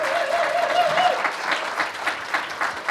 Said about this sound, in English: can we just give Cortney one more round of applause?